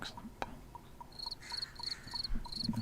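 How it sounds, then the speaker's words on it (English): Cricket chirping sound effect: rapid, evenly spaced pulsing chirps repeat in quick bursts over a noisy background, with a faint sharp knock near the start. "Why did I get crickets?"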